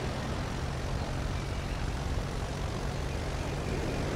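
An aircraft engine runs at full throttle in the Roblox flight game Aeronautica, a steady, loud, continuous droning roar that holds unchanged throughout with no talking.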